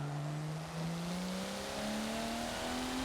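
A race car engine in the Forza racing game at the Catalunya circuit drones loudly and steadily, its pitch climbing gradually as the throttle is fed back in, with no other sounds.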